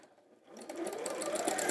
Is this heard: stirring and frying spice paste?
no